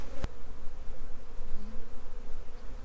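Honey bees swarm around an opened backyard hive during a spring inspection, giving a steady, close, unbroken buzzing drone with no voices over it.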